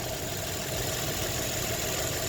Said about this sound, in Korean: 진짜 진짜 엔진 소리 한번 저, 자세히 한번 들어보세요